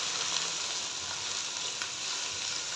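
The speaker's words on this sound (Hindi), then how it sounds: "अभी जितनी देर हमारे बैंगन फ्राई हो रहे हैं" Potato and eggplant pieces frying in oil over high heat for aloo baingan masala, a continuous close sizzle with faint stirring and no talk.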